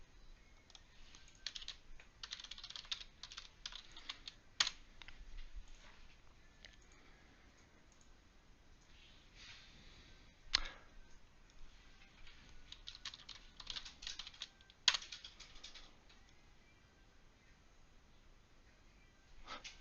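Keys on a computer keyboard clatter in quick, uneven bursts as a question is typed in, with a few sharper clicks standing out over a quiet room and no talking.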